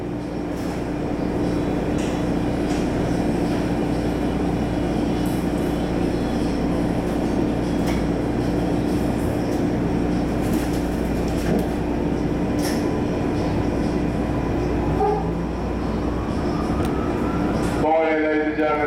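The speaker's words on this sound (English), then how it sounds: "This is your red line train to Airport." A MARTA Red Line subway train bound for Airport runs steadily, its loud continuous rumble and rail noise filling the car, with faint wheel squeal near the end.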